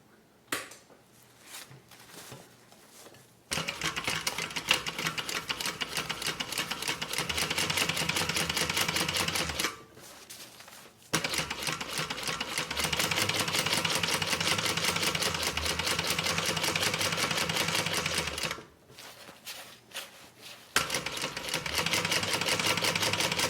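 A home sewing machine stitches a range bag in long continuous runs with brief pauses between bursts, its steady mechanical whir loud and close, with no speech.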